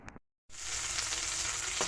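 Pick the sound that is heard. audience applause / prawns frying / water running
prawns frying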